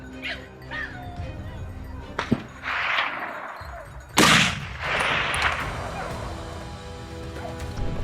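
Two sharp gunshots fired at a wild boar during a hunt ring out a couple of seconds apart, loud and close, over a noisy outdoor background with some faint animal yelps.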